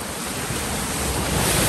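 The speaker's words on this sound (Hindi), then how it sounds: "यहाँ पर जो पूरा फव्वारा ही बना लिया भाई ने" Water sprays steadily from a man-made fountain inside a cave in Sanjay Gandhi National Park, Mumbai, a dense continuous hiss and rush with no voices.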